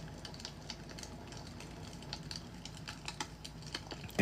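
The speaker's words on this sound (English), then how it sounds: "Or why are there keyboard sounds?" Computer keyboard typing during a drawing session, a quiet, irregular run of light key clicks, fairly close but soft, with a louder knock right at the end.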